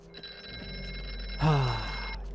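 A telephone rings in the horror video game Here They Lie, a steady electronic bell tone that holds for about two seconds before a louder burst of sound cuts in over it.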